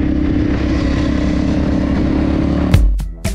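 A Honda CRF250 dirt motorcycle runs on trails with a steady, loud, close engine drone and rough chatter, then a sharp rev and clattering knocks near the end.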